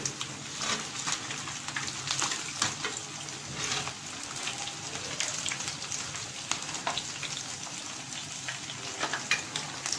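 Fish sizzles in hot oil in a home kitchen, a steady close crackle and hiss with small pops running throughout, no voices.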